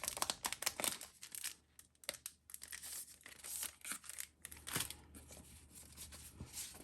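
Plastic packaging around vellum papers is torn open and handled, producing close, irregular crinkles and crackles in bursts with brief pauses, no speech.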